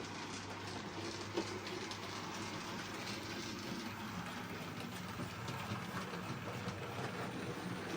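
A model railway train runs slowly around a layout, giving a steady, continuous mechanical whirr and rumble with no pauses or voices.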